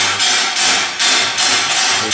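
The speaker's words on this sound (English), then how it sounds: "You can hear the blacksmith, and there's a drop hammer." Heavy repeated strikes of a blacksmith's drop hammer in a working forge shop, four or five loud broadband blows in a steady rhythm with ringing between them, close and alone.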